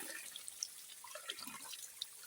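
Water drips steadily at a drinking-water source, a series of small, close, faint plinks in an irregular rhythm over a soft liquid background, with no talking.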